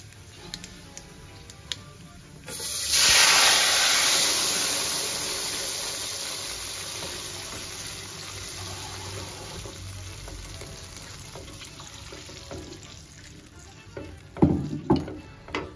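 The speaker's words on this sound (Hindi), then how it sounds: "अब इसमें जो चावलों को मैंने आधा घंटा पहले भिगो दिया था, वो चावल जो है अब मैं इसमें डालूंगी।" Soaked rice tipped into a hot pot of oil sets off a sudden loud sizzle that slowly fades into a steady frying hiss, with a few clinks and scrapes of stirring near the end.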